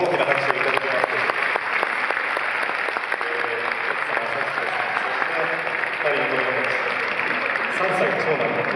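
An audience applauds at a sumo wrestler's retirement haircut ceremony in Japan, with sustained, even clapping throughout while voices talk and murmur underneath.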